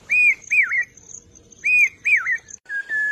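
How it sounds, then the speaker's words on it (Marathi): A pavsa bird calls over rice fields with clear, sweet whistled phrases. Two pairs of rising-and-falling notes are separated by a short pause, followed by a steadier note. The calls are loud and near, with a low background murmur and no speech. "भात शेतीच्या मळ्यावर पावसा पक्षी त्याच्या मधुर स्वरात जणू पेरते व्हा पेरते व्हा"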